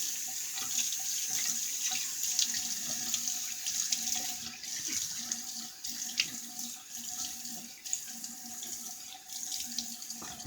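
A tap runs water continuously into a sink to rinse an alum block, a steady close splashing stream lasting throughout with no talk.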